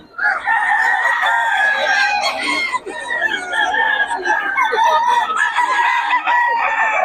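A Pure Golden Boy hen crows and clucks up close, loud and continuous, with repeated harsh calls filling the whole stretch and only faint background voices.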